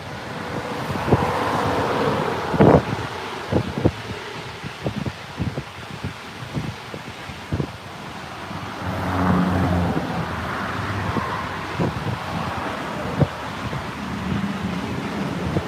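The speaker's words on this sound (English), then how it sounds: "Yeah, you can hear the speed of the cars." Highway cars speed past one after another, sharp whooshing passes rising and fading over a windy roadside rumble, some close and loud, with no talking.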